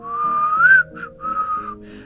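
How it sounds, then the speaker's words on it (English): A single person whistles a short, wandering melody in a few bright sustained phrases, close and clear over a soft backing of game music. "That's how I whistle innocently."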